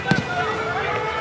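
A demolition charge detonates in Call of Duty Modern Warfare combat: a sharp, loud double blast right at the start, quickly giving way to a steady rumbling, tonal background bed for the remaining second.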